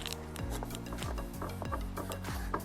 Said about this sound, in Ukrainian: Нам треба обрізати засмажену скоринку